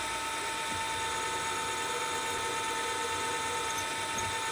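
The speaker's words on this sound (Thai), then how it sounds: "เจาะลงไปเรื่อยๆนะครับ" A drill bit bores steadily into a metal workpiece, with coolant dripped on, giving a continuous whining, grinding hum at an even loudness throughout.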